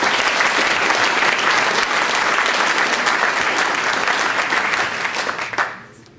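Sustained, loud applause from an audience at a 75th birthday celebration for Dr. Fred Sinowatz, a dense wash of clapping that holds steady for about five seconds and then fades out.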